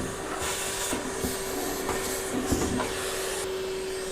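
A vacuum cleaner fitted with extensions drones steadily while cleaning inside a Civic race car, with faint knocks and scrapes of the nozzle throughout.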